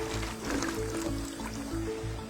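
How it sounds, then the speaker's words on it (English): Water pouring into a huge pot of tomato sauce in a large communal kitchen, a steady gushing, gurgling fill with low churning underneath, close and continuous. "He then fills the pot with more water so it achieves the same consistency he had before the tomatoes."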